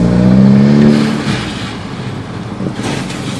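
Exhaust of a Volkswagen GTI Mk V revving, a loud low engine roar that rises in pitch and then settles back to a rumbling idle.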